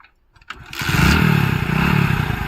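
After a quiet moment and a click, a motorcycle engine starts and settles into a loud, close, steady running rumble.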